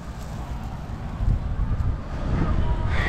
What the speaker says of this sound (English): the wind's blowing in my face towards left field right here